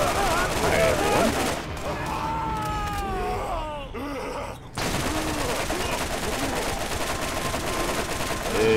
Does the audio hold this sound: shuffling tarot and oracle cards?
no